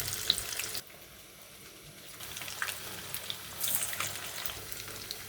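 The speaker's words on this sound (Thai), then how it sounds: "น้ำมันเดือดสุดๆเลยครับ ตอนนี้" Steady crackling and spattering of Thai fish-cake-style fritters of banana blossom and minced pork frying in very hot oil, continuous and fairly quiet, with a brief lull before the sizzle picks up again.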